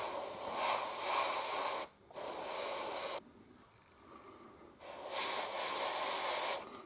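An airbrush spraying paint at 1.2 bar gives a close, steady hiss in three long bursts with a short gap and then a longer pause between them, loud and clean with no talk.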